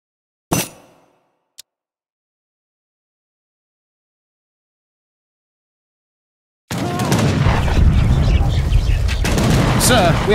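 A sharp bang and a faint click give way to several seconds of silence, then a dense battle roar of gunfire and bombard cannon shots with voices mixed in, all from the game Age of Empires III.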